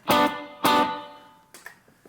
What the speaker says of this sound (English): The effects I'm using for this is just my dotted eighth delay, and then a plate reverb